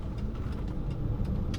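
A 1999 Rolls-Royce Silver Seraph pulls onto a highway with a low, smooth engine rumble and steady road noise from inside the cabin, brief and unbroken.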